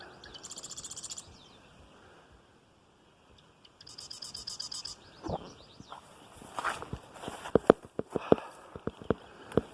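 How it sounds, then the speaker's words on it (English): Bird calls chirp in bursts outdoors on a trail near Sammamish, Washington, mixed with insect-like trills and footsteps crunching nearby, growing louder toward the end. "Listen to all those birds."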